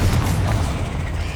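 A Confringo spell blast in Hogwarts Legacy, heard as a heavy, booming rumble that fills the whole moment with low, rolling energy and no clean start or finish.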